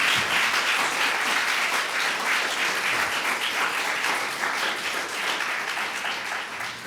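A lecture audience claps steadily to welcome a speaker, a dense, sustained round of applause that stays loud and even throughout before easing slightly toward the end.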